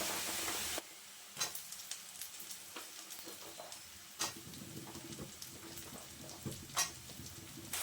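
Potatoes fry with onion in a pan, a soft sizzle broken by several scraping stirs and clinks of a spatula, fairly quiet and close, with no talking.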